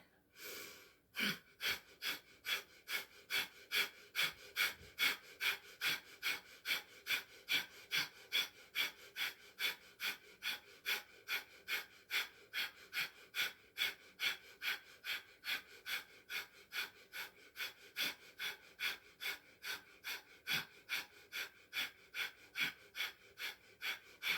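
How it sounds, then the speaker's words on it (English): Rapid, forceful nasal breathing in a fire-breath exercise, done sitting or squatting, a steady train of short, even, sharp exhales about twice per second, close and loud for the whole stretch with no talking. "We're going to sit or squat just like this for 1 minute and do the breath of fire."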